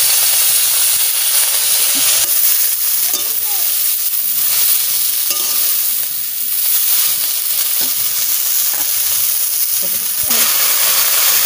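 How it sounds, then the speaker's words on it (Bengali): Leafy greens frying in oil with garlic give off a loud, continuous hissing sizzle. Brief stirring sounds come and go within it. "শাক ভাজা বসাই দিচ্ছি, শাক ভাজা হচ্ছে।"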